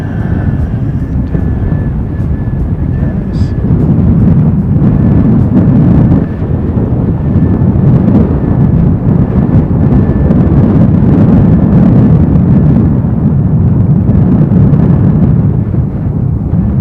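Gusty wind buffeting an outdoor microphone while plane spotting in stormy weather, a loud, continuous low rumble that swells and roars without pause, with no talk.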